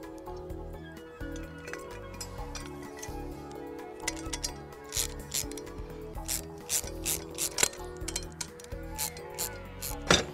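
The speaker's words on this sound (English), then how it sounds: "So you need 2 13mm spanners. They're both 13s to tighten them." Rapid metallic ratcheting clicks from two 13mm spanners tightening bolts on a Berg Sprinter AF velomobile, in repeated bursts with short pauses, close by and moderately loud.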